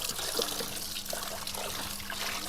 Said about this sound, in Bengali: ভালোভাবে তো এবার আমি শাপলাগুলো ধুয়ে নিলাম